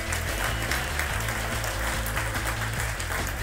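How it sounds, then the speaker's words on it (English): A corporate event audience at a Bertelsmann talent gathering applauds to welcome a speaker, dense steady clapping over a low booming music bed with a repeating bass pulse. "Please, a big applause for Mr. Thomas Rabe."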